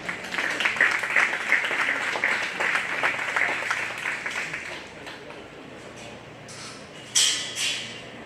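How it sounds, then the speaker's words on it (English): A crowd at a county fair 4-H and FFA beef and bucket calf show applauds steadily for several seconds, the clapping slowly thinning out, followed by a brief sharp clatter near the end. "Let's give this young lady a round of applause."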